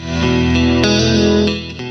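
An electric guitar rings out in sustained chords, struck a few times in close succession with a fairly clean, dry tone that fades at the end.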